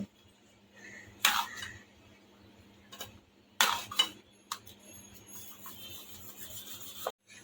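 Red lentil chilla batter stirred with a ladle in a bowl, sparse scraping and knocking strokes, a few sharp louder clanks, over a quiet background hum.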